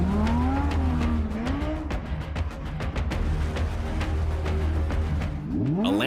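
A supercar slips wide and crashes hard into a raised concrete edge: loud continuous engine roar with rising and falling pitch, a dense clattery stretch of impact and scraping, then a sharp rev sweep at the end.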